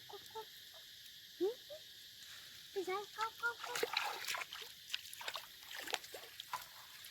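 Frogs croak in short repeated calls that grow denser, heard outdoors during evening frog catching and crab scooping in rural Thailand, with faint voices nearby.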